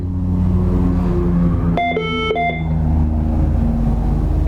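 A rapid sequence of electronic dialing tones from a Smartcaller HP5 alarm phone dialing out an alarm call plays over steady low rumble, a short burst of beeps lasting under a second.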